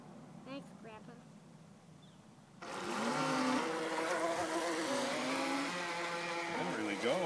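A radio-controlled toy boat motor running on water, a loud, steady high-pitched buzzing whine that starts abruptly partway through and continues, nearby, after a quieter stretch with brief talk.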